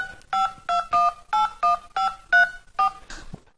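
A run of about nine short dual-tone telephone keypad beeps as a phone number is dialed, evenly spaced and clear, each lasting a fraction of a second.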